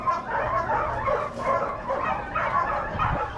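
Greyhounds being loaded up to race bark and yip excitedly in rapid overlapping bursts, several dogs close by calling out in an uneven, eager chorus.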